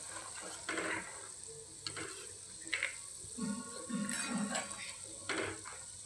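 Butter simmering into homemade ghee in a pan gives a steady, close sizzling hiss, punctuated by scattered scraping and clinking as it is stirred.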